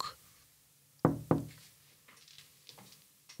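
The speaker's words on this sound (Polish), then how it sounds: "Postanowiła to pukanie zlekceważyć." Knocking sound effect in a Polish children's audiobook: two loud, close knocks in quick succession, followed by fainter scattered taps, with no voice over them.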